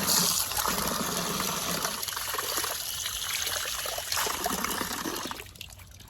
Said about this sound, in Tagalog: Ang lakas naman ang tubig nila dito.